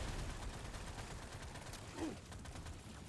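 An automatic weapon in Deep Rock Galactic Survivor fires a quick, rattling stream of shots under dense game noise. The bursts are fairly faint against the busy background.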